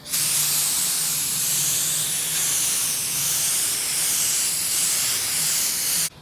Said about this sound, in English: I'm just gonna go ahead and spray, kind of with low pressure